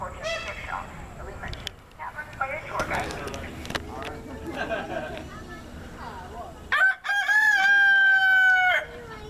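A rooster crows loudly and close by near the end, a long drawn-out call, after a stretch of clucking and people talking nearby at a farm with goats.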